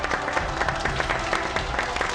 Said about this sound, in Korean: 박수로 환영해 주시겠습니까?